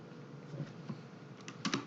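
Light keystrokes on a computer keyboard, fairly quiet and close, with a few scattered taps and then a quick cluster of sharper presses near the end, such as hitting enter, no talking.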